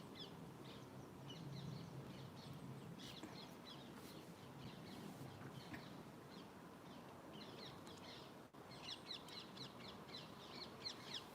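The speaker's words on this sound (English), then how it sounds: "The amount of parakeets singing outside my window." Parakeets chatter and screech outside a window near Heathrow, a faint, steady flock of harsh repeated calls in the background with no talk over them.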